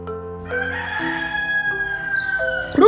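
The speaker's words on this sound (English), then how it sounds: "Rooster. Rooster." A rooster crows once, a drawn-out cock-a-doodle-doo lasting a few seconds, loud and close, alone over a faint background with music playing softly.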